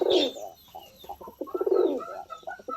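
Shekhar pigeons kept at a hobby farm coo close by in soft, throaty bursts, one near the start and a longer rolling series in the second half, with light rustling between calls.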